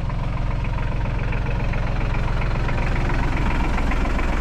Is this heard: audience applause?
no